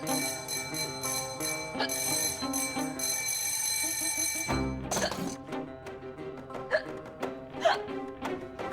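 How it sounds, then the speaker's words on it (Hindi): A woman hiccups repeatedly in a television drama scene, sharp little catches that stand out over bright ringing bell-like music, a few spaced hiccups near the middle and end. "आपको इतनी हिचकी क्यों आ रही है?"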